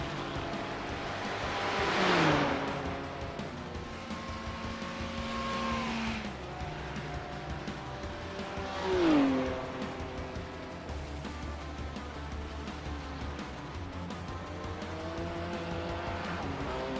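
Race cars roar past at the Bathurst 12 Hour endurance race, two loud passes swelling and fading a few seconds apart, with high engine whine and a falling pitch as each car goes by, over a steady background rumble.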